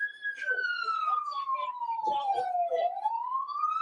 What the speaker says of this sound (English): I hate hearing the sirens.